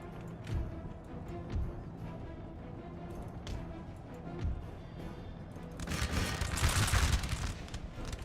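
Musket volley fire from massed line infantry in the Empire: Total War battle game, several sharp cracks spaced about a second apart, then a denser, louder crackling fusillade building near the end, with battle noise underneath.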